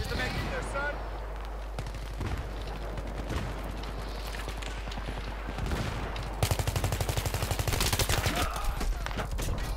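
Rapid automatic gunfire from a magazine being emptied in Battlefield 3, bursts of close, sharp shots that grow denser and louder toward the end, with a voice talking at times underneath.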